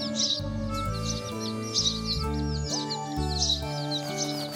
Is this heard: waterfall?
no